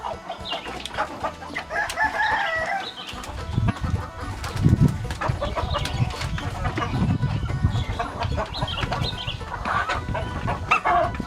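Free-range village chickens raised for sale cluck and call on a farm, dense overlapping clucks near and far with a rooster crowing in the background and steady outdoor ambience.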